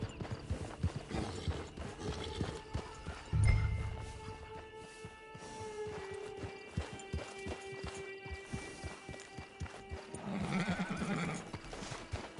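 Horse hooves clip-clop steadily in a video game, with a drawn-out neigh partway through and a low rumble near the start, all fairly quiet against a busy game soundscape.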